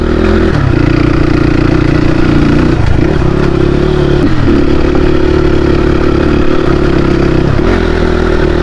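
A Crossfire RM 250 motorcycle engine, running hot on an uphill mountain route, drones loud and close in a steady mid-pitched roar with slight dips and surges in revs.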